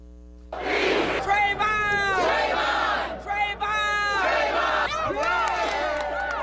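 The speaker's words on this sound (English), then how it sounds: "people who still can't believe the verdict in the George Zimmerman trial shouted and they prayed together" A protest crowd at a street rally over the George Zimmerman trial verdict in Atlanta shouts in loud, rhythmic bursts, many voices chanting together close by, with brief dips between the shouted phrases.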